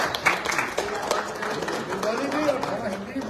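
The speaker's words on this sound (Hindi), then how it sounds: "उसके लिए पहले ताली बजेगी रंजीत गोप के लिए" An audience at a BMW car achievement ceremony claps for Ranjit Gope, a dense, fairly close patter of many hands mixed with crowd murmur and a speaking voice throughout.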